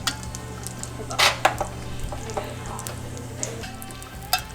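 Vegan beignet dough frying in hot oil, with a steady low sizzle and scattered bright pops and crackles, a few louder spits standing out, heard fairly close with no talking.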